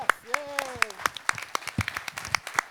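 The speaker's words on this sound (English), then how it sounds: "Get a round of applause for our veterans." An assembly crowd applauds veterans with scattered, sharp claps that keep a fairly steady rhythm, and a voice speaks briefly over the start of the clapping.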